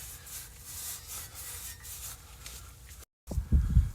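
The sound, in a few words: wiping clean inside the wheel bearing housing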